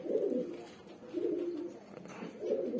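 A female Madrasi Kalankha pigeon coos softly nearby, giving three low, rolling coos spaced about a second apart.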